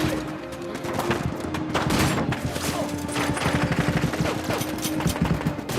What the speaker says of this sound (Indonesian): Bu Guru Jen mengambil pistol milik Barkat dan mulai belajar menembak secara live.